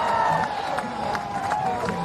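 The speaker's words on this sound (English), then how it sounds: "The crowd goes wild." A crowd at a surf contest at Pipeline cheers and roars continuously, a steady wash of massed voices and whoops with no single voice standing out.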